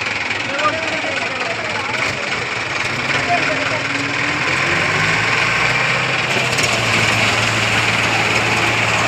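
Mahindra tractor engines, a 575 and a 585 in a tug-of-war contest, loud and close, running at a steady throbbing roar with a rough mechanical rumble throughout.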